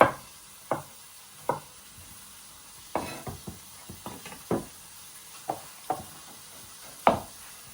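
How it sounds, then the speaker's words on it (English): Sausages sizzle in a pan as a stirring utensil knocks and scrapes against it in a string of sharp, irregular clatters over a steady low hiss, close and alone without talk. "Now your sausages are nicely cooking"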